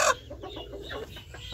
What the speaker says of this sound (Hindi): ये है जी वो मुर्गी और इस टाइम फुल टाइम गुस्सेल है